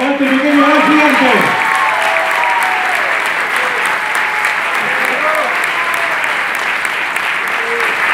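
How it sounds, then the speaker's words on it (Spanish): A theatre audience breaks into loud, sustained applause, thick steady clapping that carries on throughout, with a voice briefly heard over it at the start. "fuerte el aplauso para este pequeño gran gigante"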